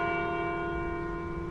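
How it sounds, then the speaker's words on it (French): Church bells of Saint-Roch church ring in a steady sustained peal, bright overlapping tones holding loud and close with a low rumble beneath. "Moi, ça a toujours été merveilleux d'entendre les cloches de l'église."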